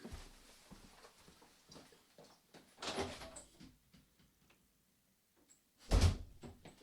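A front door opens and later shuts at home, a soft rattle of the handle and door first, then a louder thud as it closes near the end, with quiet footsteps and shuffling between.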